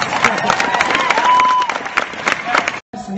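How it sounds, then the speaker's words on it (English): Audience applause and cheering fill a crowded hall at a Star Trek: Discovery announcement event, dense and sustained at close range with crowd noise mixed in, breaking off briefly near the end. "That deserves applause."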